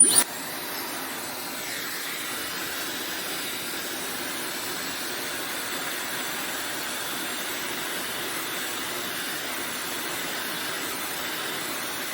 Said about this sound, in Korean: 드라이기를좀 열을 더 하겠습니다